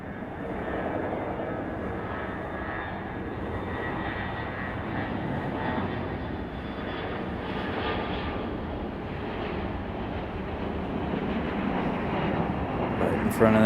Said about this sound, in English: Another CRJ, this one departing.